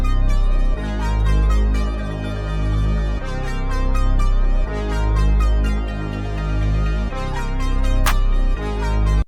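A beat loop pitched up an octave over a deep sub bass playing the bass notes, loud and continuous, with punchy repeating drum hits and a sharp burst near the end.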